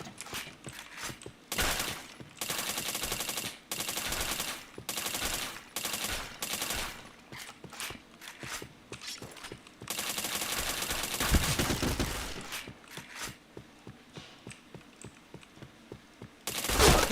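Gunfire in a shooter video game comes in repeated loud automatic bursts of about a second each, separated by short gaps, then one longer sustained spray before quieter scattered shots.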